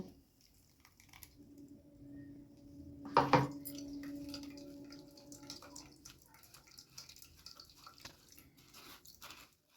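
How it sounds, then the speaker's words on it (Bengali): Spiced water of ginger, coriander and green chili being strained through a sieve in a kitchen, faint dripping and trickling with a brief louder splash and clink, no talking. "এবার এই মশলাটাকে একটু ছেঁকে নেব।"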